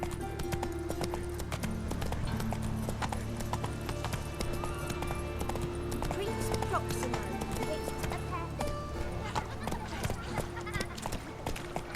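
Horse hooves clip-clop steadily in The Witcher 3 video game, a continuous galloping rhythm layered with game music and ambient sound, with a rider's voice urging the horse on.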